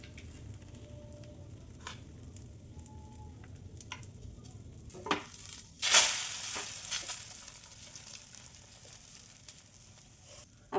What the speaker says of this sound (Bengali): দেখো এখন ডিমের ব্যাটারটা দিয়ে নিব।